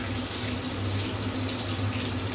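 Tap water runs steadily into a sink as hands are rinsed to remove henna stains, a continuous close splashing hiss with no pauses.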